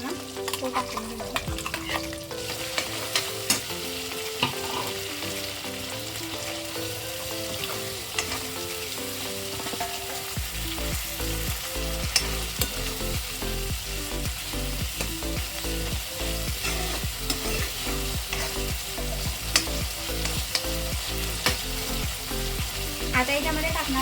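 Spice masala tipped into eggplant frying in oil and stirred, a steady sizzle with scraping spoon strokes over background music, growing denser and more rhythmic partway through.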